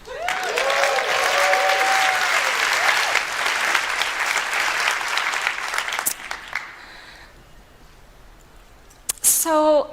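A large keynote audience at the GreenBiz 24 conference bursts into sustained, loud applause that fills the hall for about six seconds, then fades to scattered claps and room noise, with brief voices near the end.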